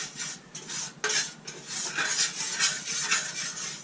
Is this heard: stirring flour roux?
yes